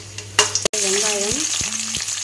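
Green chillies dropped into hot oil in a kadai give a sudden loud sizzle, followed by steady frying crackle with a few clinks and scrapes from a spoon, close by with no voices.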